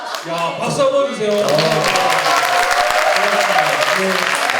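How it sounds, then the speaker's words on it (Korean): Studio audience at a Korean comedy talk show about laughter therapy breaks into sustained applause, steady and loud, with a voice and some chatter briefly heard over the clapping at the start. "야, 박수 한번 주세요."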